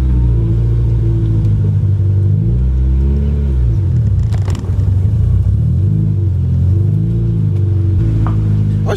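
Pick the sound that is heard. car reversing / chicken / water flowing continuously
car reversing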